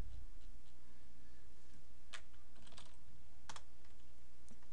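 Keys clatter on a computer keyboard as a console command is typed, a few sharp isolated clicks and short bursts spread over quiet room noise, fairly faint and without talk.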